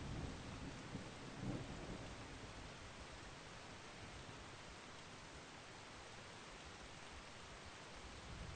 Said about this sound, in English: I hear storm, I don't see storm.